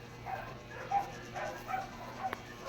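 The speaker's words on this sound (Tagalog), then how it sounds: "Yung aso ko, lumabas na karinig ng kahol" A dog gives several short, faint yips and barks at irregular intervals, heard at a distance against a quiet room background.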